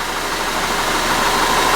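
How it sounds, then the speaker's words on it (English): An Audi Q5 engine with a misfire runs steadily at close range, a continuous idling drone with faint knocking texture and no voices over it. "now we start a car"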